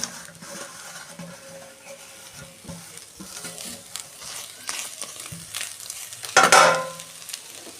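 Patali jaggery added to a hot pot and stirred, giving a soft continuous sizzle with scraping and clinks of the spoon, then a louder hissing burst near the end.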